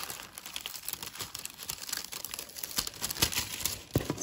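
Tissue paper from a Scentsy parcel is crinkled and rustled up close in continuous, irregular crackling handling noises with no speech.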